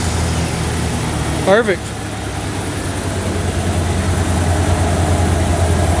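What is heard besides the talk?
1993 Ford F350 truck engine starting and idling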